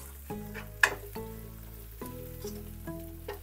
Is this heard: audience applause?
no